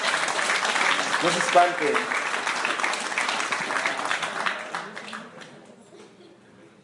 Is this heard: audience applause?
yes